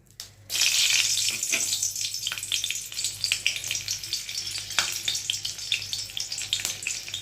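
Green chillies dropped into hot oil burst into a loud crackling sizzle that settles into steady frying, dotted with pops and the clink of a utensil.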